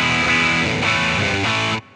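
A few sustained electric guitar chords through a distortion pedal ring out with a gritty, driven edge, then cut off abruptly into near silence.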